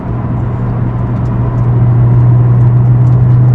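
A Honda NSX sports car drives along a road near Klutna on a clear day, its engine giving a steady mid-pitched drone with a strong low hum that swells slightly partway through and holds constant.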